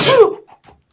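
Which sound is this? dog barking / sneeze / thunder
sneeze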